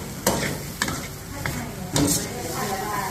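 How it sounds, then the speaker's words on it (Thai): Curry paste is stir-fried in oil flavoured with fried garlic, giving a continuous close sizzle marked by several sharp scraping strokes of a spatula against the pan, with no speech over it. "เราจะใช้น้ำมันกระเทียมเจียวผัดพริกแกงนะอ่าจ๋า"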